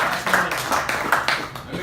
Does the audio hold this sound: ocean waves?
no